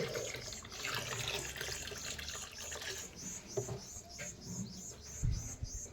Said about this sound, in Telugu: ఎక్కడైతే బోర్ ఆన్ చేసి ఇక్కడైతే వాటర్ అయితే పడుతున్నాం